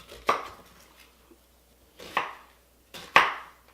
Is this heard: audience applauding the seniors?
no